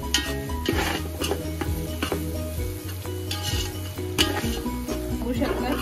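Ginger garlic paste sizzles steadily in a hot pan while a spoon stirs it for chicken biryani, with repeated scraping and clinking strokes over continuous frying hiss, close and moderately loud.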